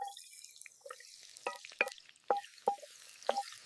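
Chopped onion frying in traditional olive oil in a pan outdoors in a forest, with scattered crackles, pops and sizzling spits standing out against near silence.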